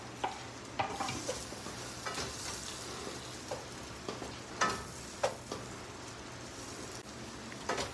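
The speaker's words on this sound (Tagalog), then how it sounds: "Ilagay ko na yung aking bawang at saka sibuyas." Garlic and onion sautéing in a pan, a steady close sizzle broken by stirring scrapes and the occasional clink of a utensil against the pan.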